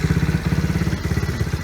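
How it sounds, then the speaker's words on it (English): A TaoTao 110 ATV engine idles after warm-up, a steady, close, loud chugging with rapid even pulses and a mechanical clatter, with no voices. "once the engine is warmed up, I adjusted the idle speed"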